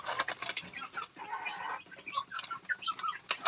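A few chickens cluck and croon close by in a backyard coop beside a house, with overlapping short calls and a brief rustle of wings, fairly quiet.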